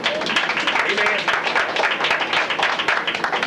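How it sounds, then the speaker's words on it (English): A church congregation claps hands together in a dense, continuous burst of applause during a full Sunday service, loud and close, with some voices mixed under the clapping. "Let's give the Lord a great big hand clap"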